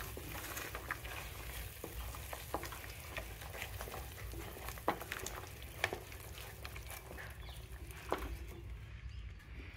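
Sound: stirring and sizzling matar mushroom curry with curd in pan

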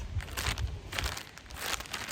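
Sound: plastic bag of fishing reel spare parts crinkling

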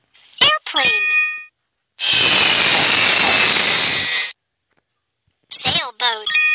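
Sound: airplane sound in a children's video game

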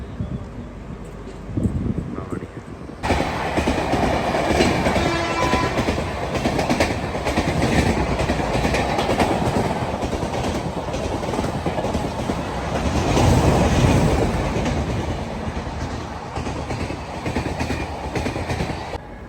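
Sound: passenger train starting to move and running

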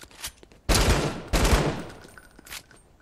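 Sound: gunfire in Fortnite video game

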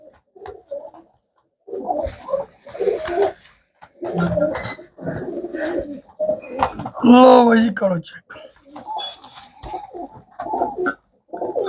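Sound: pigeons cooing

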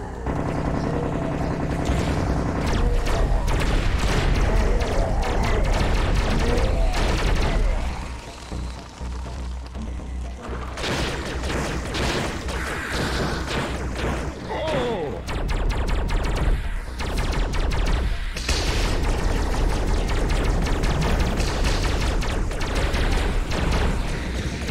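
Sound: Tommy gun firing in Serious Sam VR video game

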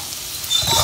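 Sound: minced garlic sizzling in sesame oil

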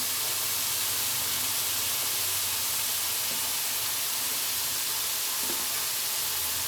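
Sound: onion, curry leaves and capsicum frying in a pan

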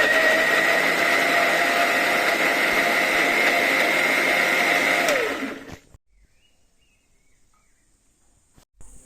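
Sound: mixer grinder grinding tomatoes into puree

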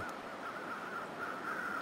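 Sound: crows cawing in the video game The Long Dark

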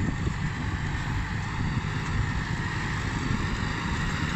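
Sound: Kubota MU5501 tractor running with rotary tiller

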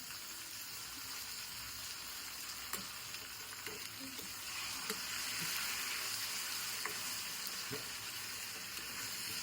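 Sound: onion frying in a pan for egg biryani

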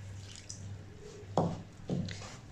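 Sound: water being added to flour dough

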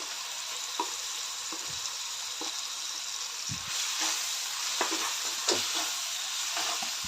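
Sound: sautéing onion, ginger, garlic, tomato and coconut paste in oil

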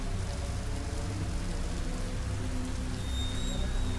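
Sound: rain falling in a horror video game

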